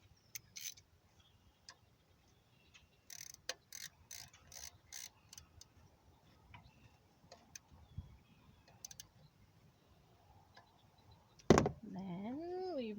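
A bolt is threaded and tightened by hand on a 2018 L5P Duramax during an air filter job, with faint, sparse metallic ticks and clicks, then a louder clunk and rustling near the end.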